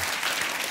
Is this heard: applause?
yes